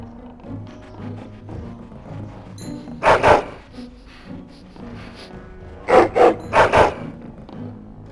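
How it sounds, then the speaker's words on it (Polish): A dog in the video game Dragon Age: Origins gives two close bursts of loud, gruff barks over a low game soundtrack, with a brief pause between the bursts. "Co ten pies tutaj robi?"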